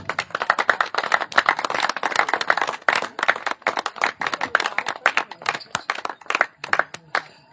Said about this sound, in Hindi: तालियां जोरदार होनी चाहिए दोस्तों।